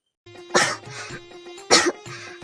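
Two sharp, close coughing bursts from a person choking after water goes down the wrong way, separated by a short gap with throat noise between them.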